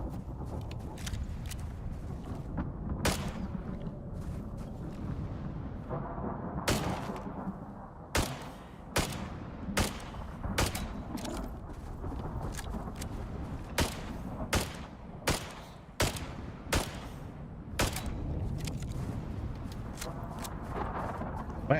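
Gunfire in the survival video game Icarus as a player shoots a creature from a distance: a dozen or so sharp, separate shots spaced irregularly, often about a second apart, over steady footsteps and movement noise.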